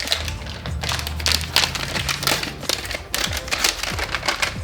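Backing peeled off a SoundSkins sound deadening mat for a Ford Bronco, a close, loud crackling and tearing rasp, continuous and uneven, with small snaps and crinkles throughout.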